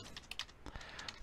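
Computer keyboard keys pressed in a quick, close run of soft clicks and taps, steady and uninterrupted, with no voices.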